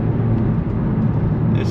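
A car with a misfire treated with Sea Foam, driving with a loud, steady low engine drone and road rumble heard from inside the cabin.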